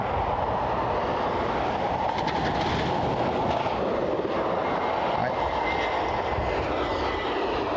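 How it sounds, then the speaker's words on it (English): An Air France airliner touches down at Dublin Airport, its engines giving a loud, steady broadband roar that fills the whole stretch without a break. "That was Air France, guys, touching down."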